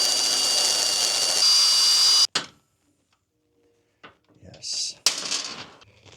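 A power drill grinds into a welded nut on a KLR 650 motorcycle foot peg, giving a loud, steady whine that cuts off abruptly, followed by silence, faint metallic handling and a brief burst as drilling resumes.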